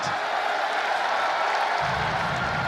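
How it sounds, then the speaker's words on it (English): A Dota 2 esports tournament crowd at ESL Manila roars and cheers continuously in a dense, broad wash of noise, swelling slightly toward the end. "I'm still not sure why the crowd is like cheering that."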